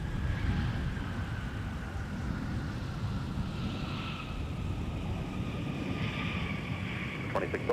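An airliner takes off from runway 17 at Minneapolis–St. Paul airport with a steady, broad engine roar that holds at a distance. A rising whine sits above the roar, and a radio voice breaks in briefly.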